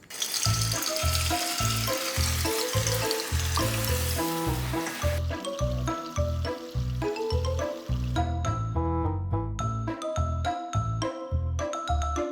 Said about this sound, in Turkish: Onda şimdi köfteleri kızartacağım.